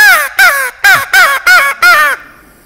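Crows caw six times in a steady, evenly spaced sequence, loud and close, each call harsh and slightly descending, with no talk.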